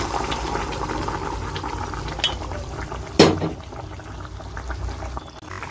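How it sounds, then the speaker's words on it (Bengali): Hot water poured into a pan of cooked-down spice mixture for a raw green pea ghugni, a steady wash of liquid with a sharp splash and sizzle burst midway, then settling. "এবার আমি গরম জল দিয়ে দিচ্ছি।"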